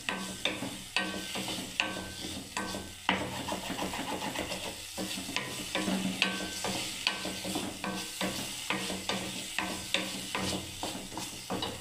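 Ginger, green chilli and spice masala sauté in a pan with a constant close sizzle, punctuated by repeated sharp scraping strokes of a spatula stirring at a steady rhythm.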